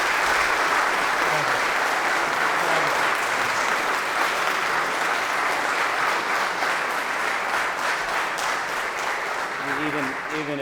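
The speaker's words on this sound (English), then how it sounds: "Even if it's obligatory applause, I'll take it." Sustained applause from a school alumni audience fills the room after a speech, steady and moderately loud, with a voice briefly speaking near the end.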